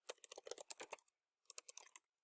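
Typing on a computer keyboard, two quick bursts of light, close key clicks separated by a short pause, soft and alone.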